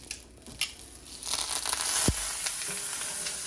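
Two tablespoons of unsalted margarine butter hit a very hot pan, giving a sharp crackle followed by a steady, close sizzle that builds and then holds as it melts.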